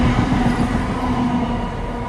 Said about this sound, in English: And here's a train coming past now.